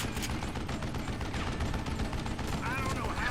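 Gunfire from the Western shooter game Call of Juarez Gunslinger, a dense steady crackle of shots under a continuous game soundscape, with a voice talking briefly over it near the end.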